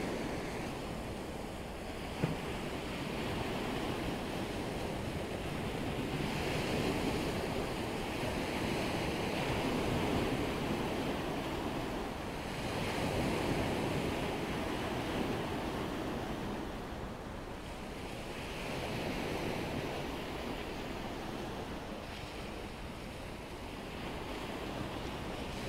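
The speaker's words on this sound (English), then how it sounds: "I'll leave us with a little bit of time watching and listening to the ocean" Waves roll steadily onto a lake shore in a continuous wash of surf with a light wind hiss, and no voices are heard.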